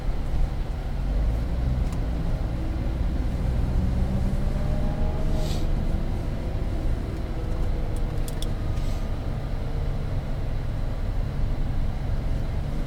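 Nissan GT-R engine idling low and steady, then rolling forward and pulling away at low speed, with a continuous rumble and faint brief tonal rises, no speech.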